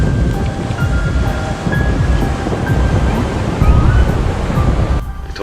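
Near-hurricane-force winds of Hurricane Sandy roar steadily alongside crashing surf, a loud, dense and continuous rush with a low rumble beneath it. A faint whistling tone drifts through the noise.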